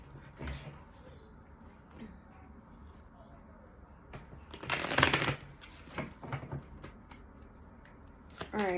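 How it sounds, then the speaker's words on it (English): Kipper fortune-telling cards are shuffled in a few quick riffling bursts, close and fairly quiet, with a voice speaking softly around them. "We're going to take some cards from the Kipper deck."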